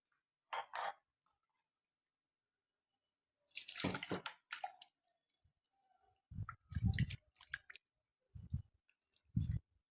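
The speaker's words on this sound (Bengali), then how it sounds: "এবার এটাকে ধুয়ে একটু জল দিয়ে দিলাম" Water splashes and drips as ground sesame is rinsed out of a kitchen mixer jar, a few short wet bursts and squishes close by with pauses between.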